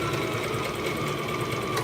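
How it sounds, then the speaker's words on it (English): A sewing machine runs a steady straight stitch through fabric folded twice for a hooded khimar, giving a continuous, even mechanical whir close by with no voices. "now we're gonna start sewing"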